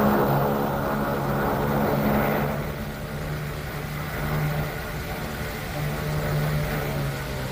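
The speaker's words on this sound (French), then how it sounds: "Mission accomplie, le Mohawk retourne à la base avec des photos cruciales" An OV-1 Mohawk reconnaissance plane, a propeller aircraft with the US 1st Cavalry Division in Vietnam, drones steadily overhead with a continuous engine hum that swells briefly and then holds at moderate loudness.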